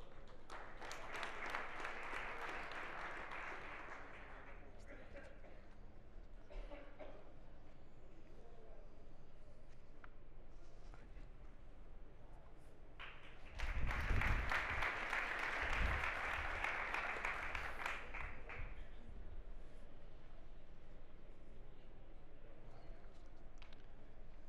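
Audience applause at the South Summit 2017 startup competition finals, a long stretch of steady clapping from a large crowd that swells to a louder burst partway through, with speech around it.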